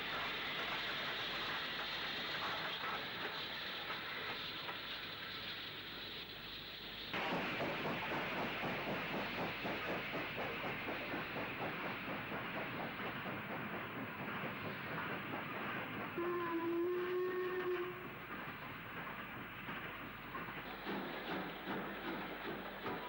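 A steam-hauled Cambrian Coast Express on a UK railway, heading to Aberystwyth behind locomotive 75021, rumbles by with steady clickety-clack and a broad hiss that swells midway, holding loud throughout with no talk.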